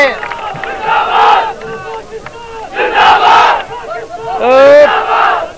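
A crowd at an academy inauguration chanting slogans in loud, rhythmic bursts of many voices shouting together, three surging waves separated by brief lulls, close and forceful.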